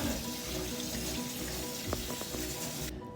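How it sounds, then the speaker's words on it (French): Chickpeas being rinsed in a small sieve under a running kitchen tap, a steady close rush of water hissing without pause until it cuts off just before the end. "Tu vas venir le verser dans un petit tamis comme ça. Tu vas rincer ça"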